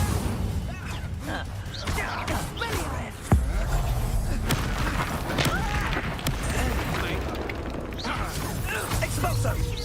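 Fire spell effects in the video game Hogwarts Legacy, with whooshing combat noise, thuds and one sharp impact midway, play continuously under a voice shouting spell names.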